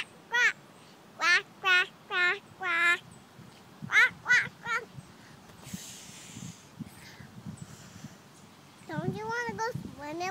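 A run of short, nasal quacks in quick bursts with gaps between them, close and fairly loud, followed by a person speaking; the calls may be a voice imitating a duck.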